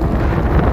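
Strong gusting wind on an e-bike ride toward the coast, a short, loud, low rumble of microphone buffeting without any speech.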